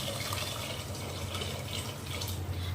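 Water is poured into a pressure cooker to cook rice, a steady splashing gush of liquid that runs continuously and close by, with no speech.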